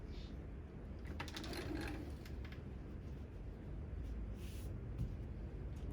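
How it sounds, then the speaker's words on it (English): Sewing machine stitching bias-cut fabric pieces, a quiet steady mechanical whir with light rapid clatter running throughout at low volume. "you're just going to carefully feed it into your sewing machine"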